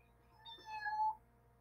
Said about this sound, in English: there came a meow